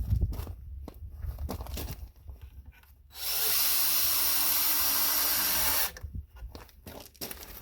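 A power drill drives screws into pallet boards while a pallet chair is being built. The motor whirs steadily and loudly for about three seconds in the middle, with bursts of handling knocks and rustling before and after.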